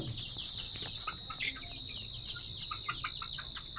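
Several chickens cluck and chirp in short repeated bursts, fairly close, over a steady high-pitched background whine.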